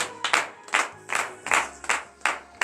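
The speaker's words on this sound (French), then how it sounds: "Donnez une vive acclamation à l'Éternel en guise de reconnaissance pour le pardon de vos péchés." A church congregation claps in a steady, rhythmic beat during a morning prayer service, with sharp, close group claps arriving roughly twice a second and no talk over them.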